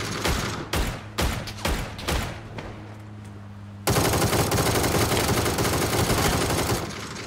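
Rapid bursts of video game gunfire, sustained automatic fire and scattered shots, loud and dense, with no talking.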